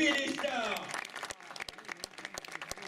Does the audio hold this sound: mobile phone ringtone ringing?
no